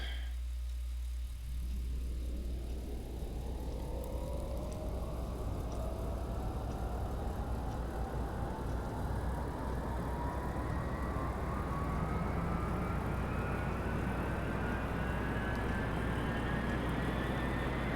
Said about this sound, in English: let's go ahead and start the engine and see if I can do this